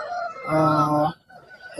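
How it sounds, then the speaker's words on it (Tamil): A rooster crows once, loud and close, at a busy Tuesday livestock market in Sirivalur, Erode district, with faint crowd murmur around it. "சேவல்கள் வரத்து அதிகமாகிட்டே போகுது மும்மரமா வியாபாரம் ஓடிக்கிட்டு இருக்கு"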